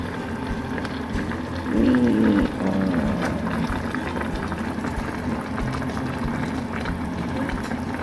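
Salmon sinigang broth with okra bubbling at a steady simmer, a continuous close gurgle with a brief louder burst of bubbling early on.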